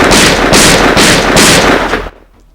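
Gunfire in The X-Files video game: four loud, evenly spaced shots about half a second apart, each a harsh broadband crack, ending abruptly into quiet.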